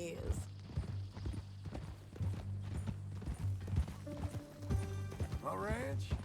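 Horse hooves clip-clop in a steady walking rhythm in the video game Red Dead Redemption 2, ending with a sharp whinny, close and clear, with voices talking over the hoofbeats.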